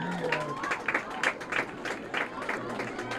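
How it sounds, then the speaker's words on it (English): A crowd at a school homecoming ceremony claps for the candidates, scattered applause at moderate distance with a voice talking over it. "Let's have a nice round of applause for all of our candidates."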